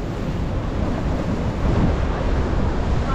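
Sea waves surge onto the Boa Viagem seafront sidewalk in Recife, a loud, continuous broadband roar of churning water mixed with wind buffeting the microphone.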